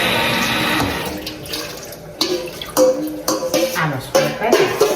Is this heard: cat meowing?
no